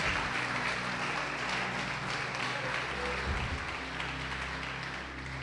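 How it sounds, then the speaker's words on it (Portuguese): A church congregation applauds during a Portuguese-language sermon on spiritual gifts. The clapping is steady and fairly faint, with a dense, even wash that lasts throughout. "Pode aplaudir o Senhor e glorificar a Deus."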